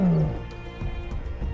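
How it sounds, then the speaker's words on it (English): A male lion roaring on the African savannah, a deep, loud, drawn-out rumbling roar that fades and then swells again in a low, grunting second surge. "the male lions guard the territory, asserting their dominance with roars that echo across the plains"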